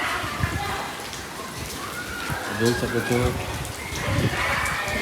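Unseasonal rain falls in a steady patter, heard under a voice talking over it.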